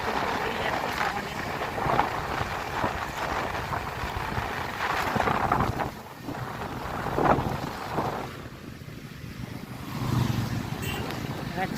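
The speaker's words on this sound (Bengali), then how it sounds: "বৃষ্টির সাথে সাথে খুব জোরে হাওয়া দিচ্ছে, তোমরা হাওয়ার আওয়াজ শুনতেই পাচ্ছ।" Strong wind and heavy monsoon rain buffet a motorbike ride near Kalinagar on the way from Kolkata to Digha, a steady loud roar of gusts and rain across the whole stretch, with a voice talking over it.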